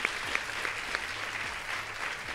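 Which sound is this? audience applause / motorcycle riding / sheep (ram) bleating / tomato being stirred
audience applause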